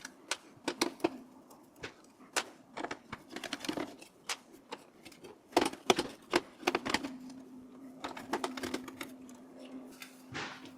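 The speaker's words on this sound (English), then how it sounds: "Next step is to remove the screws that hold the motherboard in place." Motherboard screws come out of an HP ProDesk 400 G5 tower case, close and crisp: irregular metallic clicks and taps from the screwdriver and screws, with a faint steady hum beneath.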